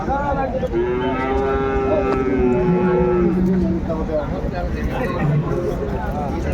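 A dairy cow moos in a long, drawn-out call at a busy cattle market, close and clear over constant crowd chatter and talking voices, with a shorter low moo following.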